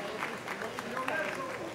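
Applause from a national assembly chamber greeting children with Down syndrome, a dense steady patter of clapping mixed with murmuring voices and some talk throughout.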